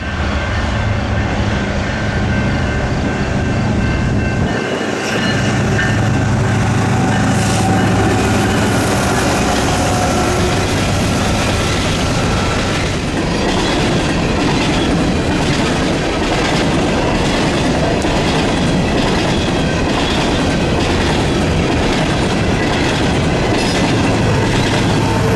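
A BNSF coal freight train powered by two locomotives rumbles past over a crossing continuously, wheels clattering rhythmically over the rails, loud and close throughout with no voices.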